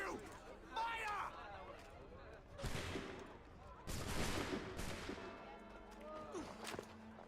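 A volley of gunfire in Assassin's Creed III, with several bursts of musket shots cracking out in quick succession amid shouting voices and a tense scene.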